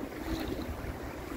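A small trailer sailboat cuts through open water off the Queensland Gold Coast, with steady wind rushing past the microphone and hull water washing continuously beneath it.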